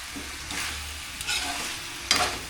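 Cooking oil sizzling in a pan for sweet and spicy chicken adobo, a steady hiss with stirring scrapes and a sharp crackling burst near the end.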